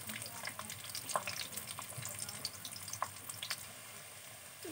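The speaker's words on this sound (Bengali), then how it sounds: "এতিয়া মই কাটি থোৱা পিঁয়াজখিনি দি দিম। পিঁয়াজখিনি ৰঙাকৈ ভাজি ল'ম।" Chopped onions fry in fully heated oil, a dense continuous crackling sizzle with a few faint scrapes of a stirring utensil mixed in; close and steady, with no speech.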